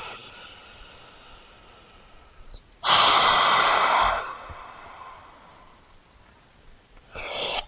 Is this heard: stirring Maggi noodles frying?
no